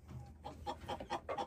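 A Partridge Wyandotte and Silver Pencil Plymouth Rock cross hen gives soft, quiet clucks in a loose series of short calls, closer together toward the end, with no talking.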